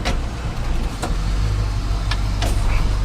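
The engine of a project truck runs loud and close with a heavy low rumble, broken by a few short clicks and knocks as it idles after a hard start.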